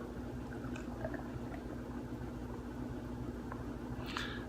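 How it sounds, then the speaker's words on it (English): Samuel Adams Tropic of Yuzu beer poured aggressively into a glass, giving a faint, steady gurgle and fizz of liquid that ends in a brief splashy burst. "let's give it an aggressive pour"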